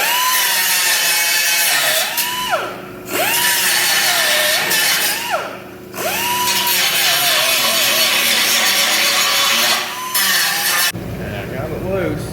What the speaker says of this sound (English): So I'm just gonna cut these spot welds, slide this back 1/4 inch.